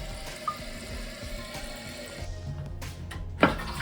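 After the supply is turned back on, water rushes through newly fitted household plumbing with a steady hiss, and a sharp knock or clunk is heard near the end.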